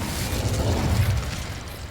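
Incendio fire spell fired in the video game Hogwarts Legacy, a muffled, booming burst of flame that rumbles low and swells briefly before fading over two seconds, with no voices.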